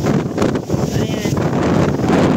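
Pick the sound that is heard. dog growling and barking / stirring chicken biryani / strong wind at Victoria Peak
strong wind at Victoria Peak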